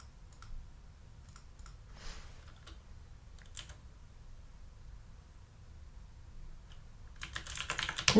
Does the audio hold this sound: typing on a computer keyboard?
yes